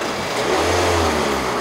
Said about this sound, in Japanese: ちょっとエンジンかけていいですか。